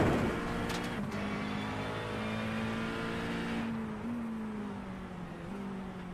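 Race cars in an iRacing sim race, including two bump-drafting each other, produce a continuous close engine drone with steady pitch and slight shifts as they run nose to tail.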